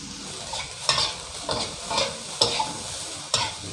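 Mama instant noodle fried rice stir-fried in a pan, a steady sizzle broken by repeated scraping strokes of the spatula, close and fairly loud with no talking.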